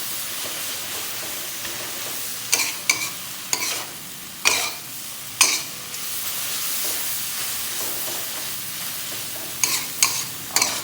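Pad thai noodles stir-fried dry in a hot pan, a steady soft sizzle broken by sharp scraping spatula strokes at irregular intervals, close and alone without talk.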